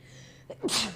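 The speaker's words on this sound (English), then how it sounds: "that was like a weird time sneeze" A single sharp sneeze, close and sudden, with a brief intake of breath and then a bright, hissing burst that fades within a second.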